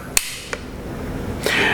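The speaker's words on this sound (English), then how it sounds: "is you cock the hammer," Cocking the hammer of a Springfield Trapdoor rifle gives a sharp metallic click, followed by a softer second click about a third of a second later and a faint late tick, all close and alone without talk.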